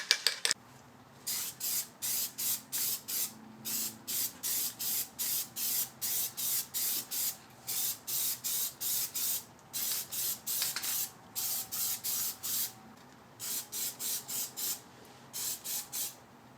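Plasti Dip aerosol is sprayed onto the rims of a BMW E65/E66 in many short hissing bursts, about a second each, separated by brief gaps in a near, regular rhythm.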